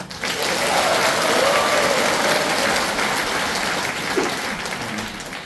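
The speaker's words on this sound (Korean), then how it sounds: "박수를 많이 받네죠" Sustained applause from a church congregation during a Catholic priest's silver jubilee Mass, dense and fairly loud, clapping steadily for several seconds before easing slightly near the end.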